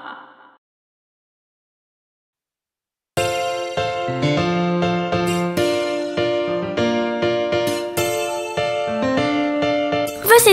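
A bell chimes in a children's song, bright repeated tones over a steady musical backing after a brief pause at the start.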